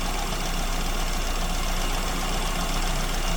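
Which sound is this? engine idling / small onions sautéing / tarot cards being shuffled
engine idling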